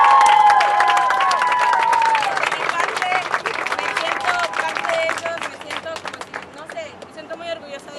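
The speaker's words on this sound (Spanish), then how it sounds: "un aplauso por favor para ellos" Applause and cheering from a crowd at a vigil for young hunger strikers, with many hands clapping while voices call out and chatter underneath, gradually thinning into scattered claps and murmuring.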